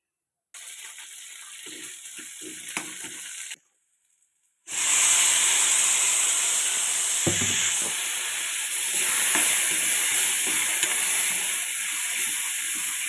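Coriander seeds, cumin and chillies fry in hot oil as a tempering for tomato chutney: a faint crackle first, a short silence, then a loud, steady hissing sizzle that lasts to the end.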